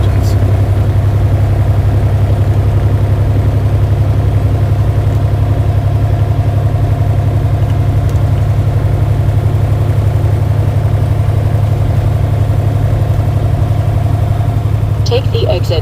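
A Volvo diesel engine with a coolant system fault runs steadily inside a car on the highway, a loud, even low-pitched drone with a constant hum that continues unbroken throughout.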